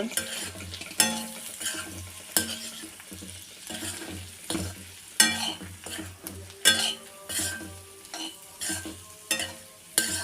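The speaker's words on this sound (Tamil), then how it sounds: "இதையெல்லாம் சேர்த்து நல்லா கலக்கி விட்டுருங்க" A boiled egg fry masala stirred in a pan, a spatula scraping and clanking against metal in repeated strokes over a soft, low sizzle.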